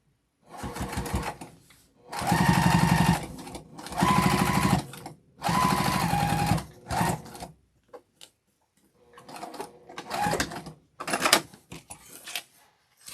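A sewing machine stitches the seam of a fabric boxy bag in several loud, close bursts of rapid mechanical clatter, separated by short pauses, with shorter stop-start runs toward the end.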